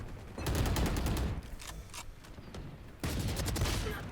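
Pistol gunfire in the video game Valorant, a rapid string of sharp close shots in two bursts separated by a brief lull.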